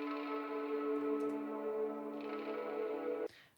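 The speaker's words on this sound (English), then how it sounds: "Then I put a comb filter on it so that I could play it kind of like this pad texture" A one-shot sample turned into a sustained, comb-filtered pad in the Vital synth plays as one steady, harmonically rich tone that holds for about three seconds and then cuts off, with no voices.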